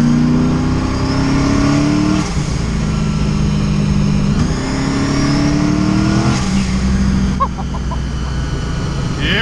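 A turbocharged 9-second Ford Mustang revving repeatedly, loud close engine pulls rising in pitch and dropping back in cycles, with a brief voice near the end.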